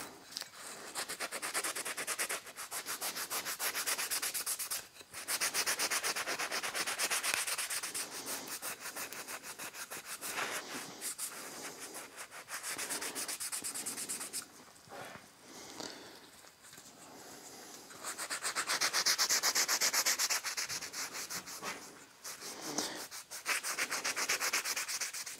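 A cloth rubs lacquer thinner across a white tile to transfer a photo, producing steady close scrubbing strokes that run almost continuously with short pauses, loud and alone without talk.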